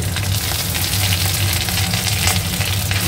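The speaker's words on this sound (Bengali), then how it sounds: "এবার দিয়ে দিলাম এখানে আদা একটু থেতো করে ঘষে নিয়েছি" Crushed ginger frying with cumin, bay leaf, cloves, cardamom and cinnamon in hot ghee gives a steady, dense sizzle that holds close and fairly loud throughout, with no voices.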